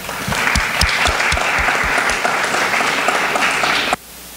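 Audience applause welcoming Cary Nelson, former president of the American Association of University Professors, at a forum event; steady, dense clapping with a few louder claps near the start, cutting off abruptly near the end.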